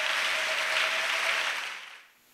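A church congregation claps together in a steady wash of applause as a clap offering, loud at first and then tapering off toward the end, with a faint sustained tone running underneath.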